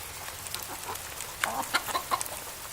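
Chickens cluck softly while being hand-fed treats in a backyard, a few short clucks and calls bunching up near the middle, fairly quiet over low background noise.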